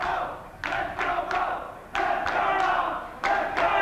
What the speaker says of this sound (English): The crowd solidly behind Mo Massive in this test of strength.